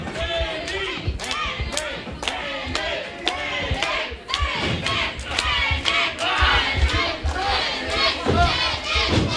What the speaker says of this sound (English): The crowd getting behind Andy Rhodes.